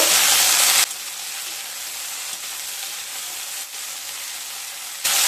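Potatoes and bitter gourd fry in a pan while being stirred, a dense, steady hissing sizzle that swells louder at the start and end, with no talk over it.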